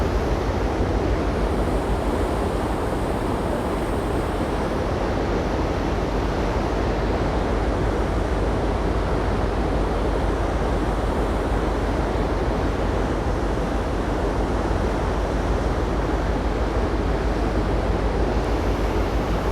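Loud, constant roar of churning water off Vancouver Island mixed with gusting wind, a dense rushing noise that never lets up.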